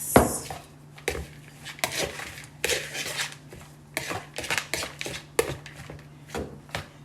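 Kale being tossed with dressing in a bowl for a wrap, with soft scraping, tapping and rubbing bursts in an irregular rhythm, close and moderately quiet, no talking.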